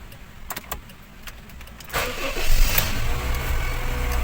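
A 2012 Honda Jazz engine cranks and catches at about two seconds, then settles into a steady, fairly loud idle that runs to the end, after quiet ambient noise with a few faint clicks.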